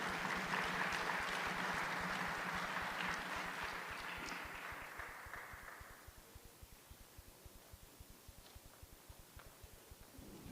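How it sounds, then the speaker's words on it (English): Audience applause for the Honorable MEC at an SA G20 event in the Free State: a steady wash of clapping, somewhat distant, that fades away about halfway through, leaving faint rhythmic tapping. "A round of applause for the Honorable MEC."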